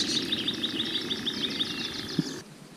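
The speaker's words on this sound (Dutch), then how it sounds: "Dat geluid, dat is dus een nachtzwaluw." European nightjar giving its churring call outdoors, a steady rapid trilling purr that runs continuously at moderate distance, then cuts off near the end.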